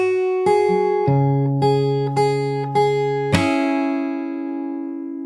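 Fingerstyle guitar slowly plays a passage from a song: evenly spaced picked notes and chords, then a final slapped strum that rings out and fades, with no talking.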